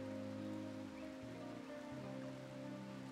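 Steady, soft rain falls at night in the video game RimWorld, a continuous quiet hiss with no talking and low sustained tones underneath.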